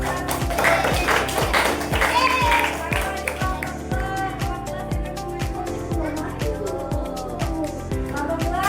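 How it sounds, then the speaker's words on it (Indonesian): A classroom of children applauding for the first group, with a steady rhythmic patter of clapping hands throughout and young voices chattering and calling out over it. "Tepuk tangan untuk kelompok"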